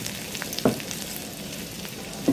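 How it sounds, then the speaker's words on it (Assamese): Garlic and leafy greens frying in oil in a home kitchen, a soft steady sizzle close by with two brief clinks of a utensil, no talk. "তেলত নহৰু দি পেলাই ভাজিব।"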